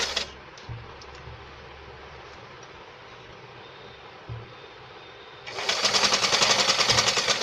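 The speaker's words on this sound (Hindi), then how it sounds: "रफ़ल को स्टिच कर देते हैं।" A sewing machine stitches a ruffle onto a bell sleeve with a half-inch margin, first as a low steady hum with a few soft thumps, then a loud, fast, buzzing run of stitching near the end.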